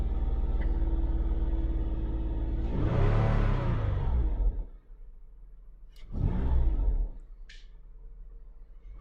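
A warmed-up Mazda 6 engine, just fitted with new front oxygen sensors, is revved to about 2500 rpm in two close, loud bursts over a steady idle rumble, the first rise longer than the second.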